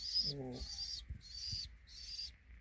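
Pigeons in a loft give a brief low, throaty coo near the start, over a background of repeated high-pitched bird calls and soft thumps.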